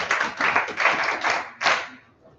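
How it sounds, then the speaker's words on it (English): Audience clapping at a Rotary Club Menstrual Hygiene Day event in Ikeja, Lagos, a short burst of close, uneven hand claps that fades out within two seconds. "Again, another round of applause."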